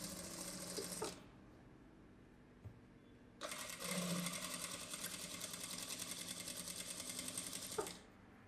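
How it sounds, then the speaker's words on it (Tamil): A tailor's sewing machine stitches a boat neck blouse in two runs of fast, steady mechanical whirring, the first brief, then a pause, then a longer run, close and alone, ending with a small clunk. "நான் சும்மா ரஃபாக தையல் போடுறேன், நீ எம்மிங் பண்ணி விட்டு பிரித்து விட்டுரு."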